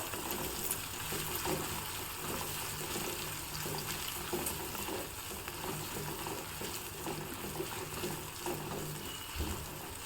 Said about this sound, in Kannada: ನೋಡಿ ಇವಾಗ ಈರುಳ್ಳಿ ಚೆನ್ನಾಗಿ ಫ್ರೈ ಆಗಿದೆ